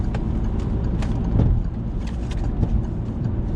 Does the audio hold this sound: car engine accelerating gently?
yes